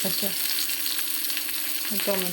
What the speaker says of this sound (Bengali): এইগুলো কাঁচামরিচ কুচা অনেকগুলো দিয়ে দিচ্ছি